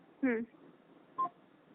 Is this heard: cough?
no